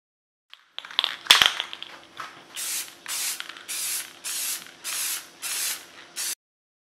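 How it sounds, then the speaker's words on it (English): Bursts of gloss white spray paint hiss from a can onto the inside of model elevator halves for an HSD F-86 120mm EDF jet, a click first, then about seven even, close sprays with short gaps. "So first we spray the gloss white on the inside of the elevator halves."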